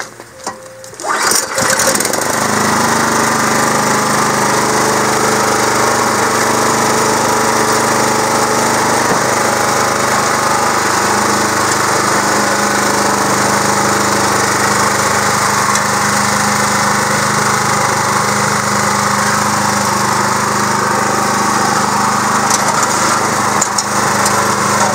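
A two-stage snow blower with handlebar warmers pulls over and starts, then its small engine roars and runs at a loud, steady, buzzing pitch nearby for the rest of the time, with no talking.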